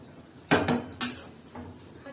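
A pan of mixed vegetable curry gets covered with a lid, two or three sharp close metallic clanks in quick succession followed by a softer knock over a quiet background.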